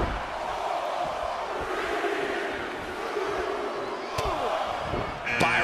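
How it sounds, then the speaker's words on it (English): A large wrestling arena crowd at a Royal Rumble match roars and cheers continuously, with thuds from the ring cutting through near the end. "Listen to this crowd."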